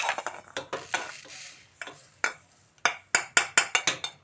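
Roasted sesame seeds are scraped from a kadai pan into a bowl, giving a run of sharp metallic scrapes and clinks, sparse at first, then a quick rhythmic series of close, crisp strikes.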